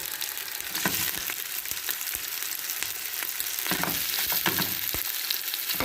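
White fish sizzles steadily in a pan of olive oil, with the frying close and constant. A few clicks and scrapes of utensils come through over the hiss, and nobody speaks.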